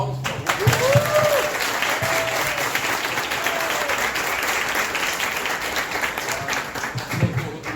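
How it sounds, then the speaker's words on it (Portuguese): An audience applauds at a talk on crime fiction, with dense, sustained clapping from a crowd nearby throughout and a few faint voices mixed in. "Senhores, Irã Andrade, palmas, por favor"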